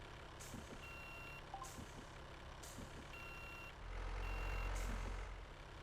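A tow truck reversing in Car Dealer Simulator sounds a steady series of four evenly spaced electronic beeps over a low idling engine, and a deeper engine rumble swells near the end.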